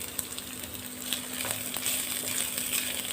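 Chopped onion sautés in oil in a pan with a soft, continuous sizzle, and faint stirring scrapes come and go close by, with no talk.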